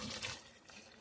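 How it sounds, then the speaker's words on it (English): Boiling water splashes and gurgles as it is poured into a pot of chicken curry, a short, quiet, steady liquid pour with no talk. "what I'll do is add some boiling water, which I had boiled"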